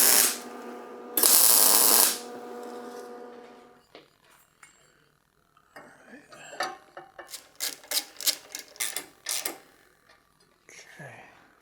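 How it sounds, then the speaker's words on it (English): Spacers are tack welded onto a custom headlight housing for a Yamaha TRI-Z 250: two loud, broad crackling bursts open the clip, followed later by a quick run of sharp metallic clicks and taps. "I'm gonna weld my spacers in place real quick."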